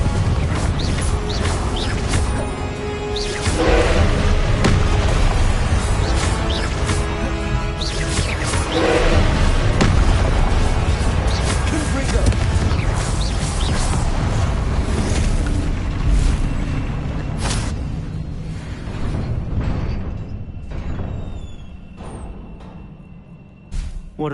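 Repeated explosions from the Confringo blasting spell in a Harry Potter scene, loud, dense booms and crashing debris rolling on for over twenty seconds before fading out near the end.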